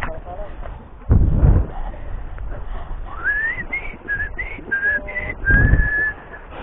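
A man whistles a short, wavering tune while fishing in Bahrain, close and clear, with heavy thumps and handling noise breaking in around it.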